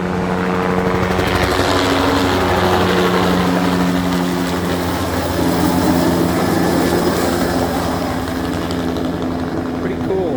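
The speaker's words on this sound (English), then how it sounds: "These guys are pretty good with these helicopters." Helicopters fly low over a bog, their broad rotor and engine roar continuous and loud throughout, with a steady thumping drone filling the scene.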